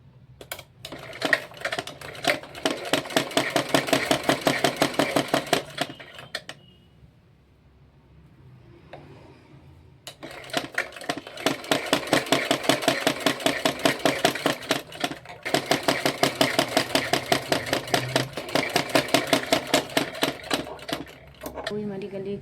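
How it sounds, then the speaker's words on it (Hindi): A sewing machine stitches a blouse neck strip in two long bursts of rapid, steady needle rattle, loud and close, with a quiet pause between them where only faint handling noise is heard. "इसके ऊपर सिलाई लगा देंगे।"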